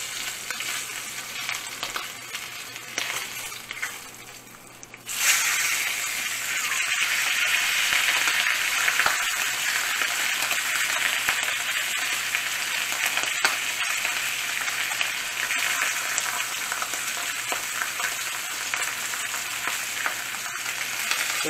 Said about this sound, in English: The ends of that piece of meat you need to fry a little bit too.